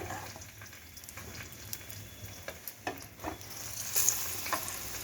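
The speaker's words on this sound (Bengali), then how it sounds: "লাল লাল করে ভেজে নেব" Bread pakora batter fries in hot oil until reddish, giving a quiet continuous sizzle with scattered light clicks and scraping stirs, and a faint watery hiss in the background.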